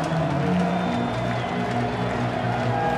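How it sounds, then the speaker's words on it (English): A college football crowd at Williams Stadium during North Alabama vs Liberty murmurs and stirs, with a steady low rumble of voices and scattered cheering at moderate distance. "the crowd that is here in Williams Stadium starts to make a little noise"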